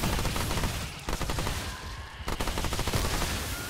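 Rapid gunfire from Remnant II, a shooter video game, rings out as a dense stream of loud, sharp bursts that carry on through the whole stretch, with a short lull in the middle and no talking.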